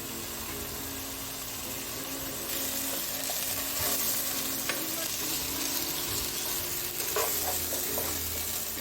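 Chicken for a chilli flakes cheese fry sizzles steadily in a hot pan, with occasional scraping stirs and tossing clatter rising above the continuous frying hiss, close and fairly loud, no talking.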